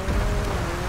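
Rain falling during a drive in GTA with an Issi Classic car, a dense, steady hiss of drops over a low rumbling engine and road noise for about a second.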